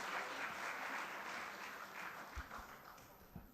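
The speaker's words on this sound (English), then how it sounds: "Put your hands together and big applause for Aditya Mangal of Micro Startups." Audience applause at a startup summit as a speaker is welcomed to the stage, steady clapping from a crowd that gradually thins and fades, with a few louder individual claps near the end.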